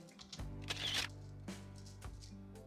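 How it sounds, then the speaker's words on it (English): A phone camera shutter sound effect in a DDLC mod for the video game, a single sharp click burst heard against background music, fairly faint overall. "Oh wow, that's one shutter sound effect your phone's got."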